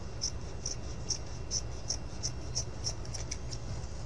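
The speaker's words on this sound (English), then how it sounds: "cut some felt" Scissors snip through gray felt being cut for a small doll's hat, a steady run of crisp, close cuts about every half second with no talking.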